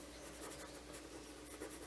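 A Derwent watercolour pencil lays colour straight onto paper, a soft, faint scratchy scribbling of quick strokes in a quiet room.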